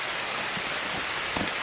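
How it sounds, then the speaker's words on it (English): Heavy rain pours down outdoors beneath a large oak, a loud, continuous broadband hiss with a few heavier drips and splats standing out. "Second, crazy rain, like right now."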